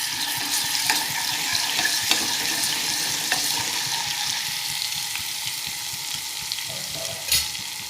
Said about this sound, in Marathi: लसूणला चांगलं परतून घेऊ